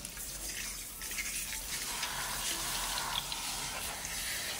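Warm running water from a tap pours steadily while conditioner is rinsed out of a hair topper, a constant close hiss and splash with no talk.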